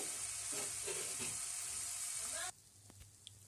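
Peanuts frying in hot oil give a steady, close sizzle that cuts off abruptly partway through, leaving faint clinks and a quiet kitchen.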